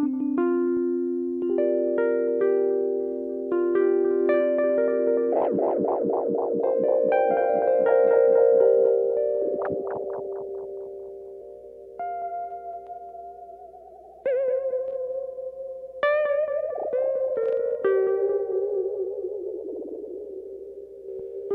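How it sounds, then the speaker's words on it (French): Looped effects-unit demonstration running a tone through several delay types, modulation, overdrive and distortion, with layered sustained notes and repeating echoes that shift character partway through; no voices. "tu as plusieurs types de délais, de la modulation, overdrive, distorsion."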